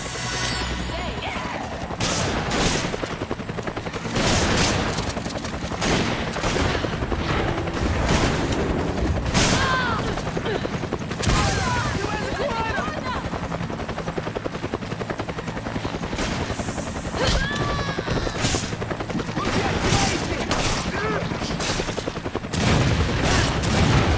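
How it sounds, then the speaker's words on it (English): Bursts of rapid gunfire in the video game Resident Evil 5 crackle repeatedly over a constant loud rotor-like drone, with intermittent crashes throughout. "Hear gunfire"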